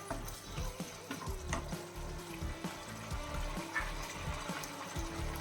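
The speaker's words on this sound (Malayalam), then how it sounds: "നമുക്ക് മുട്ട ഇട്ട് കൊടുക്കാം" Boiled eggs go into a simmering egg roast gravy, with soft wet stirring, clinks and liquid bubbling close by in a kitchen, no voices.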